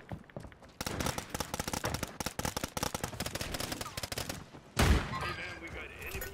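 Rapid bursts of automatic gunfire in Call of Duty crackle in quick, dense volleys for several seconds, followed by a single louder boom near the end, with players' voices faint underneath.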